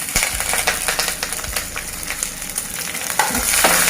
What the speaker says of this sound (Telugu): వేసి మనకి గోల్డెన్ బ్రౌన్ కలర్ వచ్చే వరకు ఫ్రై చేసుకోవాలి బాగా